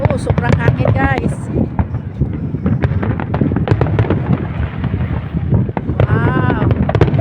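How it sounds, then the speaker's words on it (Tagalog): Heavy wind buffets the microphone with constant low rumbling, while people talk and exclaim over it and sharp firework bangs crackle in the distance at a New Year display in Bahrain. "Oh, sobrang hangin guys."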